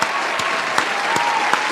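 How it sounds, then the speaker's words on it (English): A group applauds in a round of clapping, with steady, close, dense hand claps and a few sharper individual claps standing out, briefly and without talk. "Round of applause for our resident GM."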